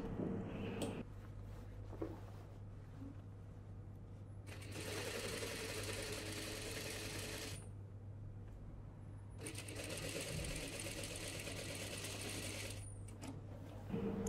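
A sewing machine stitches a seam on a dress, running in two long steady bursts with a pause between them, set against a constant low hum and light handling sounds.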